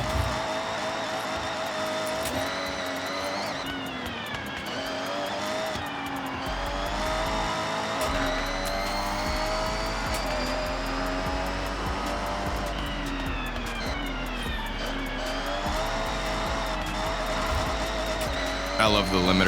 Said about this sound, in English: I love the limiter sound.